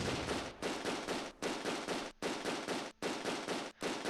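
Close Combat II gunfire during the Nijmegen Bridge fighting: loud, dense bursts of rapid shots, almost continuous, broken by a few short pauses.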